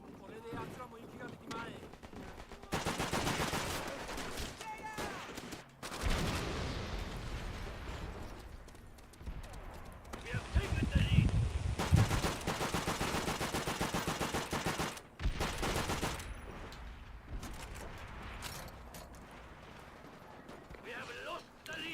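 Gunfire in the Call of Duty video game, with loud bursts of shots and explosive blasts across a long stretch, dense and continuous in places, and a voice talking over the game audio.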